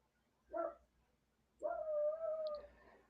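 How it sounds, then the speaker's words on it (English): A dog outdoors gives a short bark, then after a pause a longer drawn-out yowling bark, both faint and distant against near-silence. "it's my dog barking outside."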